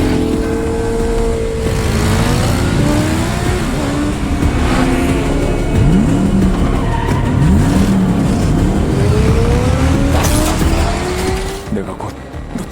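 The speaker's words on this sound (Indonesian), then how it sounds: "seseorang mengendarai Supra 125 lalu mengaspal edan mengejar mobil sport warna kuning" A film chase: a Honda Supra 125 motorcycle pursues a yellow sports car, with roaring engines, revving and sharp tire squeals over a dense, continuous mix under talking.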